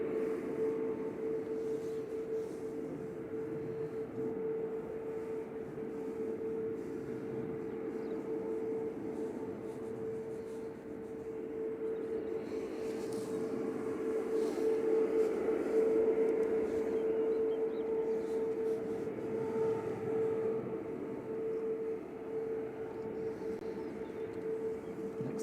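An Airbus A350-1000 jet departs Manchester Airport for Doha: a distant, steady whining tone over soft rumble that swells gently around midway and then eases.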